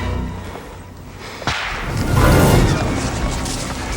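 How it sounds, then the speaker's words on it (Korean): A single sharp air-rifle gunshot cracks in a forest during a hunt for poachers, followed by a brief rumbling echo over quiet outdoor ambience. "총소리가 들려왔다"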